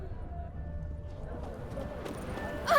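Horse hooves clop in The Witcher 3: Hearts of Stone, a soft steady clip-clop under faint game ambience, followed by a brief bright sound at the end.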